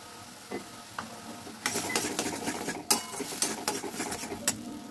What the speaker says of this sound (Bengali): এবার ভালো করে নেড়ে চেড়ে একটু ভাজা ভাজা করে নেবো